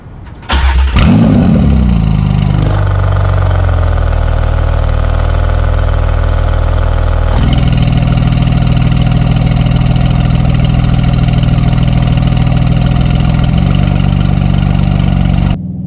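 A Porsche 911 991 GT2 RS fitted with an IPE exhaust cranks and fires with a sharp flare near the start, then settles into a loud, steady idle that steps up briefly around the middle before holding a deep, even drone close by.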